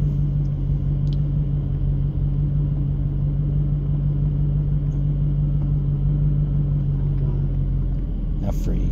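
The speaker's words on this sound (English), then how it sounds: "The car will start rolling just at an idle." Idling V8 engine of a 1996 Corvette C4 with a manual gearbox, a steady low rumble with a constant hum as the car begins rolling in first gear, heard close and unbroken.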